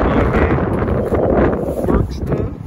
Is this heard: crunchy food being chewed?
no